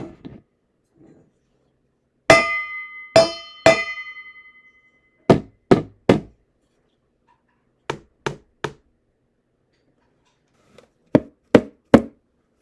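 A wooden spoon taps a hard surface in sharp, dry knocks, first three ringing strikes, then several quick groups of three separated by silence, close and clear with no talk.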